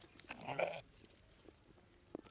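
A goat gives one short, nasal bleat close by, followed by faint farmyard shuffles and a soft click in an otherwise quiet pen.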